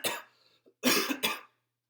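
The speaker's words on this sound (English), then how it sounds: "I don't like coughing on camera." Three harsh coughs, one short then a pause and two close together, loud and near, with silence afterward.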